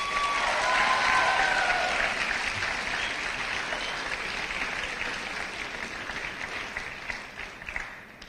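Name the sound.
graduates applauding their families at graduation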